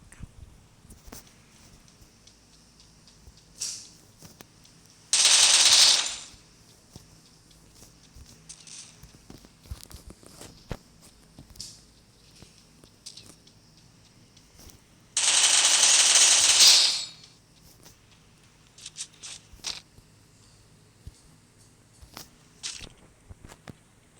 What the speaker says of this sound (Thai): ลองจัดปืนกลซะละ